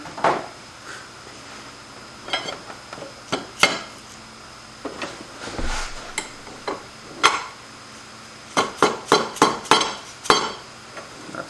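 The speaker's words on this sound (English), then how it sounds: "Let's just impact that with a hammer." Sharp metallic hammer impacts in a workshop, scattered single strikes then a quick run of about six taps near the end, close and loud with short pauses between.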